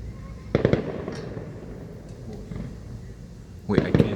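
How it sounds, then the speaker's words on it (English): Fireworks crackle outdoors at night in two clusters of rapid pops, one near the start and another near the end, with quieter distant bangs between. "Got a ton of fireworks going on"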